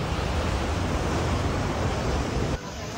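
Ash-gray, volcanic-ash-laden water rushing down Baybay Falls in La Castellana after the Kanlaon Volcano eruption, a steady loud broadband roar of torrent with no pauses, close and continuous, dropping somewhat quieter near the end.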